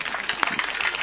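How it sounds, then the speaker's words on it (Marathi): Men in a kirtan audience clap in a brief, uneven patter of applause with a few sharper individual claps standing out, moderately loud and without speech. "टाळी वाजवा एकदा पुरुष मंडळ मावशासाठी"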